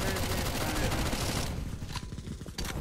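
Rapid bursts of Counter-Strike: Global Offensive gunfire on the Italy map crackle loudly and continuously, thinning into sparser shots near the end.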